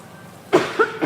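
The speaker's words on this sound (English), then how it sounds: "I don't like to cough over the food." Three short coughs in a home kitchen while Italian sauce is being cooked, a strong first burst followed by two weaker ones, close and loud with no talk.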